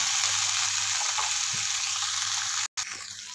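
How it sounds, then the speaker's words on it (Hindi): Okra (bhindi) frying in oil with salt in a kadhai, a continuous, even hiss of sizzling oil heard up close, with a brief cut near the end. "अभी ये ऑयल में हम जो अच्छी है भिंडी वो डाल देंगे और इसमें हम थोड़ा नमक डालेंगे और इसको हम 5 मिनट तक सौते कर लेंगे।"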